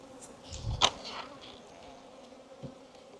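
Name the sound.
agitated bees buzzing around a beehive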